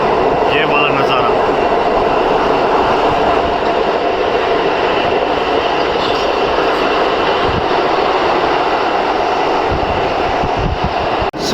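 A train runs on the USBRL line between Khari and Sangaldan in the mountains, approaching Sangaldan railway station, with a loud, steady rumble and rolling noise throughout and faint speech in the background.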